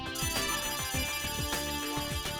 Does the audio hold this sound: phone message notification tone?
yes